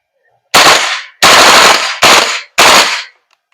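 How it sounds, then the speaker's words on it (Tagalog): A VFC Knights Armament SR16 E3 MOD2 carbine airsoft gas blowback rifle fires four loud, sharp full-auto bursts close up, each a dense rattling blast followed by a brief decay and silence. "testing naman natin yung full auto burst mode"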